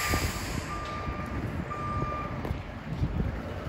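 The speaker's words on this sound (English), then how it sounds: "Wait till that guy's his reverse beeper goes off." A truck's reverse beeper sounds outside a Discount Tire shop, its steady high-pitched beeps repeating over low traffic rumble and background noise.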